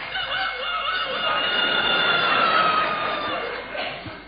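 A voice imitates a cockerel crowing on a British radio comedy panel show, giving one long, rising and falling cock-a-doodle-doo that fills the clip, with audience laughter and chatter underneath.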